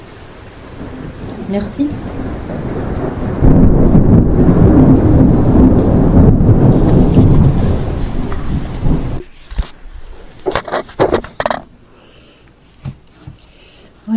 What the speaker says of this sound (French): avec l'orage comme compagnon, un compagnon très actif aujourd'hui